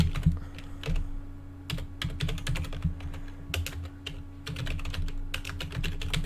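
Close, brisk keystrokes on a computer keyboard tap out an address in quick irregular bursts with short pauses, over a low steady hum in a quiet room.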